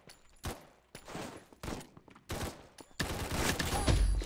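Gunfire in the first-person shooter Combat Master: several sharp bursts of shots in quick succession, with short pauses between, ending in a sustained loud volley.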